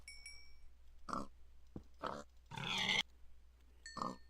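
Minecraft pigs grunt and oink in short separate bursts, four or five snorts spaced about a second apart, fairly close and clear over a quiet background.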